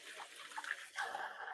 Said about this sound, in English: Do a quick rinse to get any of that onion flavor off of my hands